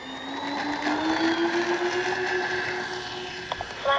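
A radio-controlled FlightLine B-25 model warbird flies past with a steady, rising motor whine that holds at moderate distance, then fades slightly at the end.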